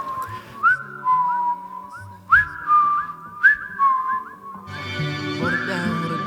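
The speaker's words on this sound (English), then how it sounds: "Have you ever tried to whistle in key?" A person whistles a short melodic tune alone, clear and close, in rising and falling phrases with brief gaps, then continues over a soft musical backing.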